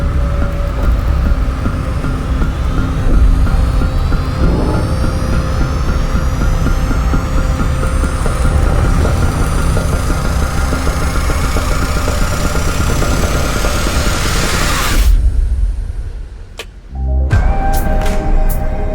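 Sonification of a black hole falling inward: a loud, dense droning hum with faint tones sweeping upward, gaining pace and intensity before cutting off abruptly near the end, then briefly resuming; no speech.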